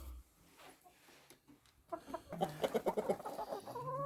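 Chickens cluck and squawk in a lively burst inside a freezing shed, rising after a quiet, faint start; the rapid clucks come close and fairly loud.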